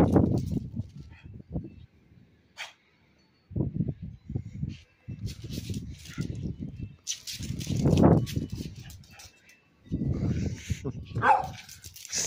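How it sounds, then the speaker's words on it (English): A dog barks and yips in short bursts, with pauses between, fairly close, while a person speaks at times. "Stop barking."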